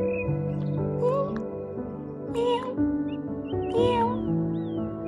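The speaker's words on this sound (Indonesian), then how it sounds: "Ada juga kucing." A cat meows several times in short, rising cries, fairly close, with a steady low hum underneath.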